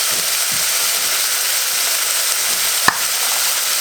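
Minced meat for bolognese frying in a pan, a steady broad sizzle running throughout with faint stirring scrapes and one sharp clink of a utensil near the end.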